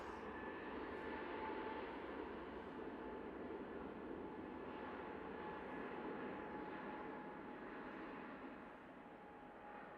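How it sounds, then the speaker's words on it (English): An EasyJet Airbus A320neo jet departing Manchester Airport, its engine roar steady and loud for the whole stretch, easing slightly at the end, with no talk over it. "Watching this Easyjet go out now."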